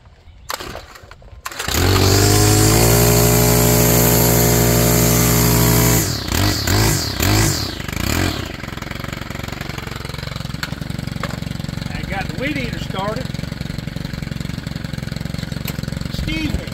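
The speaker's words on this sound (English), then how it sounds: "say it's not a weed eater if it's a commercial machine, it's a string trimmer" A commercial string trimmer's small engine starts, roars at high revs, then settles into a steady, loud, close buzz that runs on without pause.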